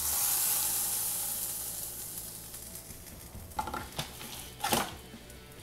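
Banana-leaf-wrapped fish (karimeen) frying in a pan, giving a steady soft sizzle close up with a few brief louder crackles and spatters near the end.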